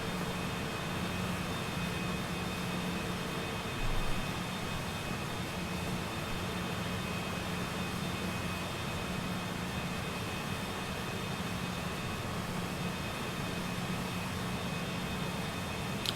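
A Cessna Citation CJ4 business jet taxis in Microsoft Flight Simulator with a steady, even jet engine whine and hum that holds at a moderate level throughout, broken only by one brief soft bump.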